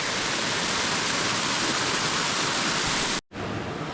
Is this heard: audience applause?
no